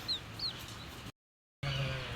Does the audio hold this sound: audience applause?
no